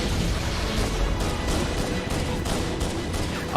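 Pistol gunfire in the video game Call of Duty, a dense run of rapid shots crackling continuously with a sharper burst at the very end, loud and close.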